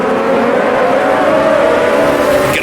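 Race car engine accelerating in Automobilista 2, a 1983 Race of Champions car at Brands Hatch, loud steady rising drone as the throttle opens uphill, alone with no talk.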